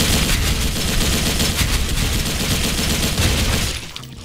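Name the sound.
RPK74 gunfire shooting through a pillar in Special Force 2 video game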